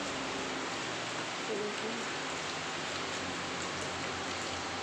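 Heavy rain pours down in a dense, constant hiss at close range, steady and unbroken with no gaps.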